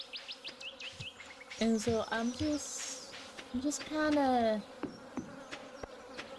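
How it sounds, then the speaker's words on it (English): Bees buzzing in the video game Stardew Valley, a sharp insect drone that swells loudly in two bursts amid game chimes and effects, with someone talking over it. "I'm afraid to cut down trees now, because I hear the bees."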